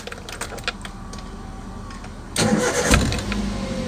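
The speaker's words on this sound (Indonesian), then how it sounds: "Oke, kita coba dengan menghidupkan mesin." A manual-transmission car engine cranks and starts about midway, jumping from quiet cabin hum to a loud, rough rumble that settles into a steady idle.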